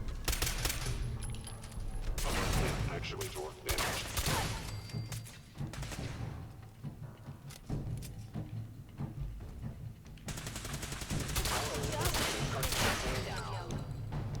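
Repeated gunfire bursts and crashes from Fallout 4 in Survival mode, dense and loud throughout, with bursts of shots coming in clusters amid combat noise and a short quieter stretch in the middle.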